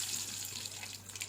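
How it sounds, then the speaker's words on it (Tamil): Water runs steadily into a cooking pan holding jackfruit seeds, a soft continuous hiss and trickle close by with no talk over it. "பலாக்கொட்டை சேர்த்துட்டு கொஞ்சம் தண்ணி சேர்த்துட்டு"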